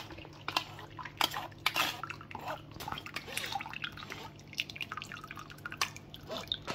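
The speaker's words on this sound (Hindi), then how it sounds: "इसको हम जल्दी जल्दी स्ट्रेन कर रहे हैं क्योंकि ये गर्म है ज़रा" Hot milk curds strained for homemade cheese in a kitchen, with liquid dripping and splashing alongside clinks and clatter of utensils and pots, quiet and uneven.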